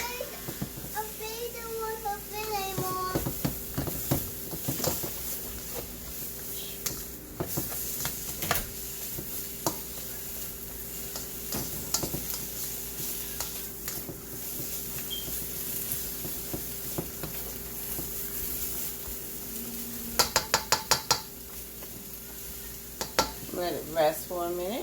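Steak, chicken and shrimp stir-fried in a wok, a soft sizzle with scraping and stirring clatter and a few sharp metallic taps, heard beneath a person talking through much of it.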